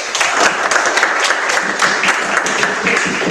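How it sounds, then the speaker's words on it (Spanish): A seated audience at a talk on managing the Tsáchila nationality applauds an engineer. Loud, close, continuous clapping fills the short clip, with individual claps standing out. "Un aplauso para la ingeniera."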